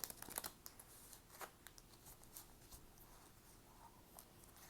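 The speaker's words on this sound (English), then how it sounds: "Shuffling up my Cosmic Tarot deck." A Cosmic Tarot card deck being shuffled, with soft riffling and scattered light card clicks, faint and close, with no voices.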